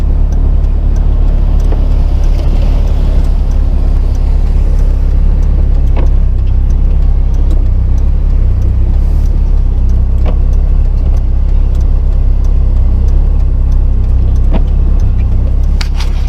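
Car driving slowly with a broken ball joint, a loud steady low rumble of engine and road noise close up, with occasional faint clicks and knocks over it.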